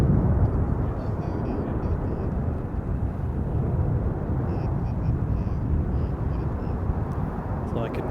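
Black Eagles aerobatic team jets fly in formation at an air show, a continuous loud, broad roar that holds steady throughout, with a person talking over it.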